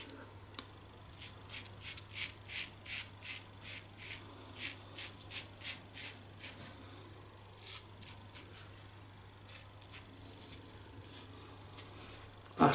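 A Schick Krono double-edge razor shaving a lathered face, a close series of crisp rasping strokes in quick regular bursts with brief pauses, loud over a faint low hum.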